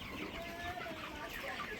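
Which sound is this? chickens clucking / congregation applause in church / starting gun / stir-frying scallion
chickens clucking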